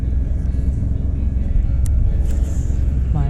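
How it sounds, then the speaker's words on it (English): Truck engine idles and rumbles steadily while being parked near a lake, a low continuous drone close by. "Parking the truck."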